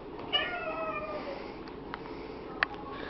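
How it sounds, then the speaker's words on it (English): A cat meows close by, one drawn-out cry followed by a couple of short clicks and faint squeaks, with a quiet room hum underneath. "he meowing about"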